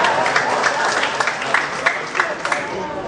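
An audience at an official gathering of government officials gives brief rhythmic applause, heard close and mixed with crowd murmur and voices talking over the clapping.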